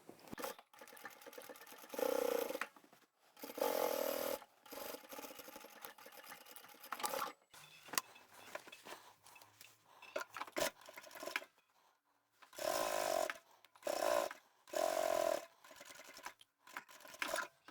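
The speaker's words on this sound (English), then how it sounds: "those side seams have been stitched up" A sewing machine stitches the side seams of a large boho hobo-style fabric bag, running in repeated bursts of steady whirring with quiet pauses and handling between runs.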